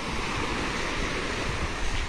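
Steady roar of surf at rising tide with waves washing in continuously, a broad rushing noise with some wind, no voices.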